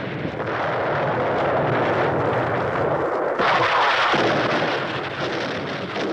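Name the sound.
distant cannon fire rumbling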